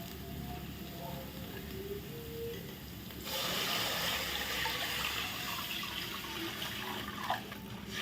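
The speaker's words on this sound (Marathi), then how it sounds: "परतून झाल्यावर आपण त्यामध्ये आता पाणी घालूया" Water poured into a pan of sautéed spice paste for horse gram shengole, starting as a low bubbling sizzle and swelling midway into a louder rushing splash that continues steadily, with no talk.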